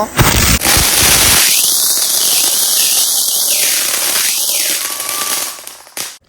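A samosa-sized firecracker with fuses on both sides bursts in a string of sharp cracks, crackling loudly and rapidly, filling the air with dense popping that tapers off toward the end.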